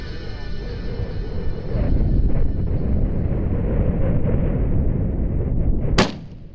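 A single loud, sharp rifle shot cracks out near the end, fired at a caribou bull during a Nunavut hunt, over strong wind rumbling against the microphone.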